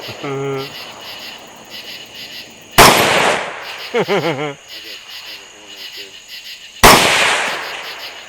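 Two loud, sharp gunshots from a CMMG 22 Nosler rifle during a wild hog hunt, several seconds apart, over a night background of chirping insects and croaking frogs, with brief speech between the shots.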